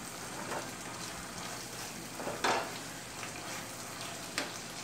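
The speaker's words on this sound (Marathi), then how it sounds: "अगदी 2 ते 3 मिनटं परतून घेऊयात।" Idli manchurian mixture with soy sauce sautéing in a pan, a steady close sizzle and crackle broken by a few louder scraping stir strokes, with no voices.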